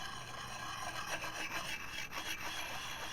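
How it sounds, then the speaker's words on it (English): A bushcraft knife blade drawn steadily along a sharpening surface, a continuous close grainy rasp with gentle rhythmic swells from repeated strokes. "that you are on the right angle when it comes to sharpening your blade"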